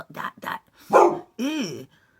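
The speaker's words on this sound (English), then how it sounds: "He's the best guard doggy." A guard dog barks close by, four loud, separate barks that rise to a longer, howling final bark, with nothing else heard around them.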